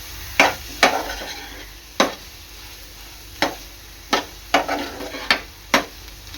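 Dried bombil fish cooks in a pan while a utensil strikes and scrapes the pan in a series of sharp, irregular knocks over a faint background sizzle, close and without speech.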